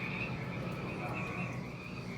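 A frog croaks inside a display tank at an aquarium's rainforest and reptile exhibit, a low, steady call heard under a constant hum of filters and room noise.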